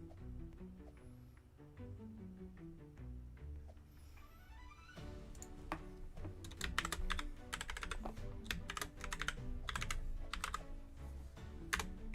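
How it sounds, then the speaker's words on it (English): Rapid keystrokes clatter on a computer keyboard during an online game session, steady close-up typing that runs continuously, with music playing behind it. "I have to keep typing you guys' names in."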